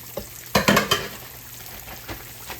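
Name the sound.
yellow squash frying in grease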